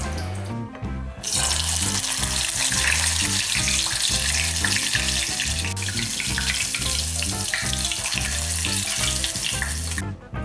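Capers fry in hot oil for a salad, a steady loud sizzle and crackle with a rhythmic pulsing underneath, cutting off abruptly at the end.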